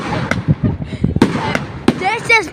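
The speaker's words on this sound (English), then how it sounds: "Yo, fireworks! So many of them." Fireworks pop and crackle in rapid, uneven bursts at Pounawea, with a whistling one rising near the end, all under excited talking close by.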